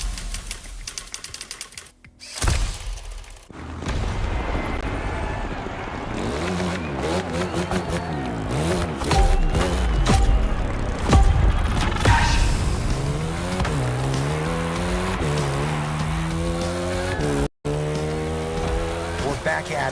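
A motorcycle rides hard in The Crew Motorfest, its engine revving and rising through the gears with loud whining pitch sweeps and a brief tire squeal, under game music and a voice talking.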